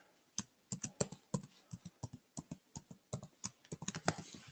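Fingers typing a login on a computer keyboard, a quick, irregular run of crisp, close keystroke clicks heard alone in a quiet room.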